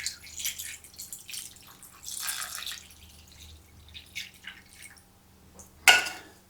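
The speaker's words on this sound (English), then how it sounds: "Okay, let me get this beef broth in." Beef broth poured into a skillet in a one-pot beef stew made with canned beef, a soft trickling splash that comes and goes over a low hum, ending in a sharper splash, close and fairly quiet.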